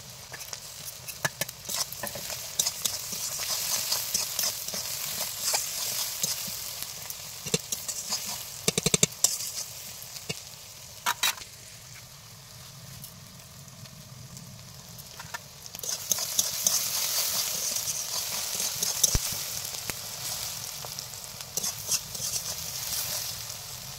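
Half-browned onions fry in a pan as garlic goes in for a home-style chicken dish, a close, steady sizzle with bursts of stirring and scraping that grow louder and fade in waves.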